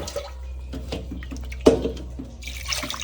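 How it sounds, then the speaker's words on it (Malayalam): Water is poured over freshly harvested produce from an organically grown home garden, heard as uneven splashing and trickling close by, with one sharper splash midway and a fuller stream toward the end. "ഇതിനൊക്കെ വെള്ളം ഒഴിക്കണ ഇങ്ങനെ"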